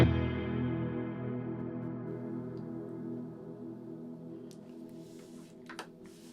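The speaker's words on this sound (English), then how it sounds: "as you can hear, it's got a really good long decay time on it" A CKK Infinite Reverb pedal lets a guitar chord ring out in a long, slowly fading wash of reverb tail, with a few faint clicks near the end.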